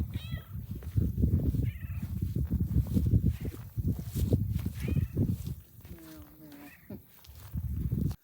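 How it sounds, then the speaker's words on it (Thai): A neighbour's cat meows several times, close by, in Sweden, mixed with people talking throughout and occasional footsteps outdoors. "แมวเพื่อนบ้านตามเรามานะคะ"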